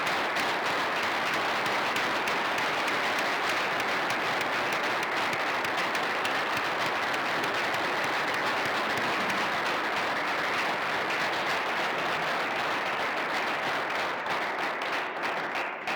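Audience applause goes on without a break, dense and even for the whole stretch, with many hands clapping at once. It fades only slightly in the last moments.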